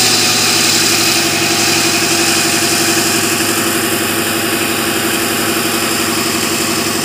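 A backhoe's diesel engine idles loudly and steadily up close, a continuous low throbbing rumble with slight vibration, with no voices over it.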